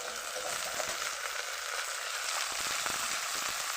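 Ivy gourd (kundri) pieces with potato fry in a pan, a close, even sizzle running throughout with a few soft stirring scrapes near the end.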